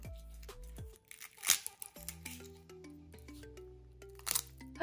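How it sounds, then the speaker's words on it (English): Dry, brittle crunching of crisp dehydrated kale chips, a few sharp crackly bursts close to the mic amid quiet background tones. "this is how crunchy the dehydrated kale is"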